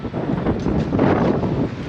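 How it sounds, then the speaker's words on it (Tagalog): Strong wind buffeting the microphone, a loud continuous rushing roar with gusty swells and no voices. "Mahangin, windy."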